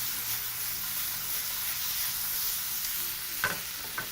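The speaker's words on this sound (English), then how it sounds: "While your peppers continue, proceed to add your tomatoes. And you can proceed to toss that in your pan." Chopped tomatoes tossed with peppers in a hot pan give a soft, steady sizzle and hiss, with a couple of brief stirring scrapes near the end.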